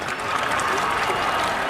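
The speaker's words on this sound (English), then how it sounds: "and the crowd go mad here at Adelaide." Crowd cheering and applauding at a 2015 Stadium Super Trucks race in Adelaide, a dense, steady roar of a large outdoor crowd, loud and sustained throughout.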